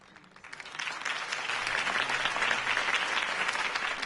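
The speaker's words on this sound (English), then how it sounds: "If only Mr. Wayne, my campaign's largest backer, could have heard that applause" Applause from a crowd after a campaign speech in the video game Batman: The Telltale Series swells quickly and holds steady, a dense wash of many hands clapping.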